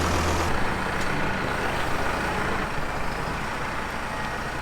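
A truck manoeuvring on a farm, its engine running as a steady, loud broadband rumble throughout, with a brief louder low burst at the start and no voices.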